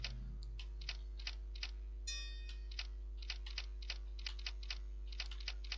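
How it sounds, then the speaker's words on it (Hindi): Keystrokes on a computer keyboard while typing into typing software: steady, rapid, crisp clicks over a constant low electrical hum, with no voice. "यहाँ पर जो अक्षर जा रहा है उसे आप इजीली टाइप कीजिएगा"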